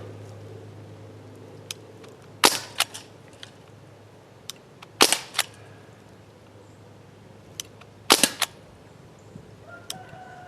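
Three sharp shots from a Crosman 1077 CO2 air rifle ring out several seconds apart, each a loud crack followed by a quick smaller click or impact, with faint mechanical clicks between them and no talking.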